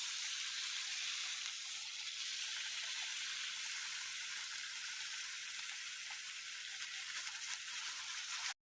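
Ground wet masala sautéing in oil in a kadhai for chole, a steady, close hiss of frying that stays even throughout and stops abruptly at the very end; no one speaks.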